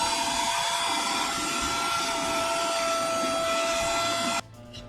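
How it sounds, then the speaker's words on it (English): A small portable vacuum cleaner runs loud and steady, a high whining motor with a constant airy roar, while removing thread dust from a fishing rod, then cuts off abruptly near the end. "I've got this little portable vacuum cleaner that I go through, and I try to get all the dust"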